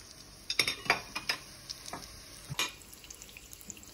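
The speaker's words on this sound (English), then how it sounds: "Okay, let's start frying our tortillas." Corn tortillas fry in oil in a pan with a soft, steady sizzle, broken by sharp clinks and scrapes of a utensil against the pan in irregular bursts. No one speaks.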